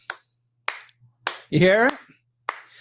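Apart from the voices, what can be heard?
cheek clapping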